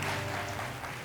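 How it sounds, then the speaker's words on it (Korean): Wedding guests applauding the couple at a Korean wedding ceremony, a steady, dense wash of clapping that holds at an even level through the whole short moment, with no voices standing out. "두 분에게 다시 한번 뜨거운 박수 부탁드리겠습니다"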